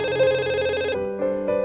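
A telephone rings indoors, a loud electronic ringtone with a repeating warbling pattern, briefly sounding alone without voices.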